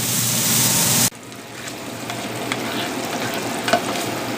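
Beef hisses loudly in a heavy frying pan for a second, then the sizzle drops to a quieter crackle with light scraping as it is stirred.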